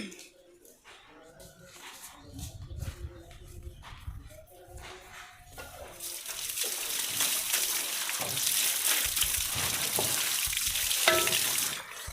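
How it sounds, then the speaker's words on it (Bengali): Vegetable stems are rinsed under running water to wash off soil, starting with soft handling and then a loud, steady splashing flow that fills the second half. "ডাটাগুলো ধুয়ে নেই, মাটি আছে।"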